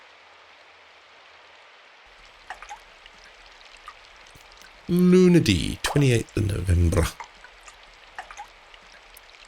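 Soft, steady rain runs into a gutter throughout in the Symphonic Rain video game, a constant gentle hiss while a voice speaks briefly over it partway through.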